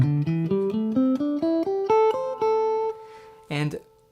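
A guitar climbs a scale one picked note at a time in a steady, even rhythm, ending on a sustained top note, followed by a brief strummed chord.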